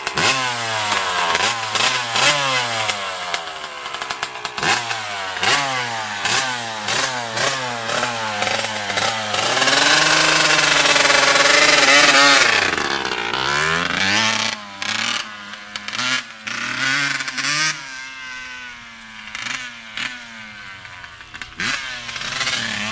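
A dirt bike engine starts up and revs loudly, its pitch rising and falling repeatedly as it pulls away in first gear, close and continuous with no talk.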